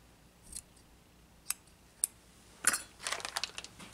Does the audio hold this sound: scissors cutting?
yes